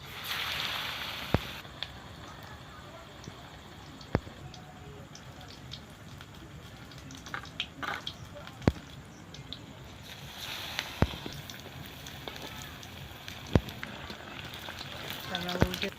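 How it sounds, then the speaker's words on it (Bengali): Pointed gourds stuffed with prawns fry in hot oil, giving a soft steady sizzle with occasional sharp pops and crackles, fairly quiet throughout. "আমরা এবারে ভেজে নেব পটল চিংড়ি ফ্রাই"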